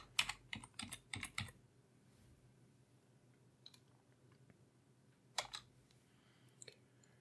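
Keys clatter on a computer keyboard during an Ubuntu Server install, a quick burst of close taps at the start, then near silence, then a few more scattered keystrokes later.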